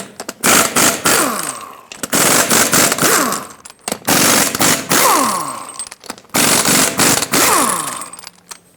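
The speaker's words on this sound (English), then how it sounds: "Use a 21mm socket and remove all 8 of your lug nuts." An impact wrench with a 21mm socket rattles loudly in four long bursts, each winding down, as it removes the eight lug nuts from a 2011-2018 Ram 2500 front wheel.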